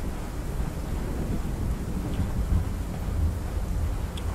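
Heavy rain and rumbling thunder fill the dark outdoor setting of the horror game Pacify, a dense, continuous wash of rainfall with low rolling rumbles, steady and loud with no talking.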